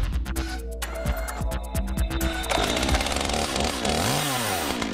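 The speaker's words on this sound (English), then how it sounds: "using chainsaws to carve art and signs all out of wood" A chainsaw carves wood for art and signs, its engine loud and close, throbbing at a steady pitch before revving up and rising and falling through the second half, with no talk.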